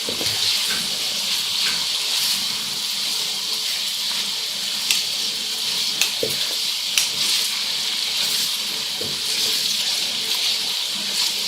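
Meat browning in a pan with ginger garlic paste, a constant loud sizzle and frying hiss with occasional sharper pops and scrapes, no talking.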